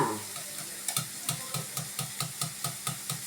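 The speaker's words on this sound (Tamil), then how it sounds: "இந்த பாருங்க இதில் அடிச்சுக்கிறோம் நல்லா மிக்ஸ் ஆகிடுச்சாமா" Eggs with cumin whisked for an omelette, heard as a quick, steady run of close utensil taps against a bowl at an even rhythm, fairly quiet, with no voices.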